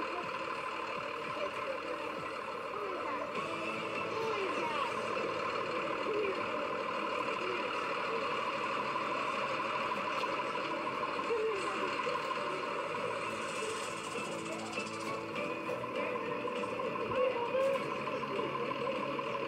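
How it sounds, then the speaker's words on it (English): A bus approaches in the distance with a steady, low mechanical drone and faint clanks, holding a fairly even level throughout. "Finally, she hears the sound of a bus in the distance."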